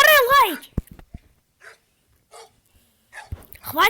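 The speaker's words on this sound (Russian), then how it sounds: "Ну харе лаять!" A dog barks a few sharp times amid whimpers and breathing, close by in a snowstorm, with a person speaking in Russian just before and after.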